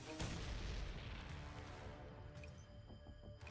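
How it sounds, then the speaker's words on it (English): Grenade explosion in the game Neural Cloud: a heavy, booming blast right at the start that rolls into a long rumbling decay with faint crackles and tonal game effects trailing after. "Grenade!"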